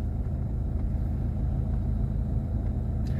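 A car rolling slowly along a narrow, winding lane as a learner practises turns: a steady low engine rumble and road hum, close and continuous, with no voices.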